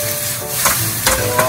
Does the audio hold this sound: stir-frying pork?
yes